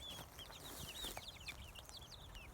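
Chickens cluck softly and repeatedly inside an off-grid coop, a quick series of chirpy calls that stays quiet and nearby throughout.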